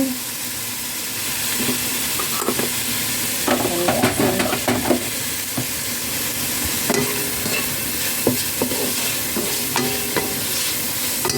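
Mung beans with shrimp and salt sauté in a hot pan, a constant sizzle and hiss with scattered scraping stirs and clinks of the utensil throughout.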